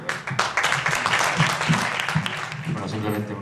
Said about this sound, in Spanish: a quien os pido un fuerte aplauso